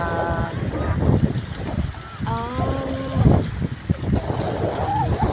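Gusty wind buffets the microphone in low roars while people talk nearby, with the sounds of a boat on water around them.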